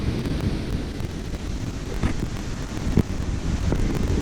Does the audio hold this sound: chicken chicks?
no